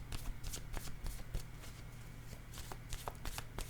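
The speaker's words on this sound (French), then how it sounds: "Je vais déposer une carte sur choix santé" Tarot-style cards being shuffled and laid on a table, a rapid close flutter of cards riffling with crisp slaps and taps throughout.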